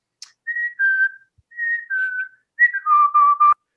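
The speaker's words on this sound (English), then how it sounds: "And if you listen, the chickadees" Clear, pure two-note chickadee whistles repeated three times, each stepping down in pitch, with the last call stretched out. A person may be whistling the call.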